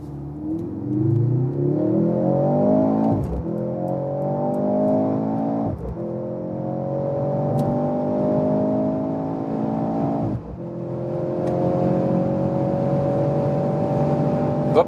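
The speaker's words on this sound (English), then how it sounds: "And now the Mercedes. Let's go to the Sports Plus mode and accelerate it out." A Mercedes C43 AMG accelerates hard in Sport Plus mode, its engine note climbing through several gears, each upshift a brief sharp break before the roar rises again, loud and steady from inside the car.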